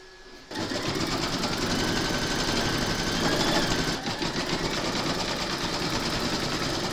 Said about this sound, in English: I'm now going to stitch the second B.